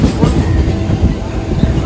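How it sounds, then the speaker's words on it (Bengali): Howrah–Bardhaman local train pulling out of Bandel station, loud rumbling wheels and a rhythmic clatter of carriages close by, steady and continuous. "ছেড়ে দিল আমাদের ট্রেন ব্যান্ডেল থেকে সকাল 7টা বেজে 1 মিনিটে"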